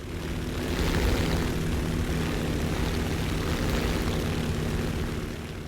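The propeller engine of a Navy F4F Wildcat in a flight video game drones loud and steady, climbing after a dive, a continuous engine roar with no voices.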